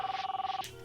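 A 1990s car phone rings with a short electronic trill, rapidly pulsing and close, then cuts off abruptly.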